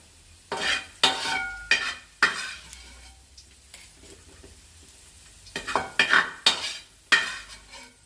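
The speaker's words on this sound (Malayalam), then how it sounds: "നമുക്ക് സേമിയ വറക്കണം" Vermicelli is stirred and roasted in a pan for Kerala semiya payasam, giving repeated scraping and sizzling strokes near the microphone with short pauses between them and no talk.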